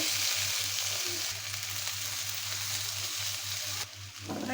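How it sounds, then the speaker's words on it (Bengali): Mixed leafy greens go into a pan of onions fried until red, giving a loud, continuous sizzle and crackle close by, with faint stirring scrapes under a low steady hum. "তোমার পেঁয়াজটা লাল হয়ে গেছে আমি শাকটা দিয়ে দিব"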